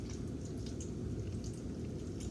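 Balsamic vinegar poured over a cucumber salad gives a steady, soft liquid trickle with faint drip-like spatters, close and continuous throughout.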